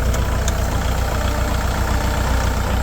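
A Kubota L5018DT tractor diesel engine idles steadily up close, a continuous low rumble with an even knocking pulse and no talking.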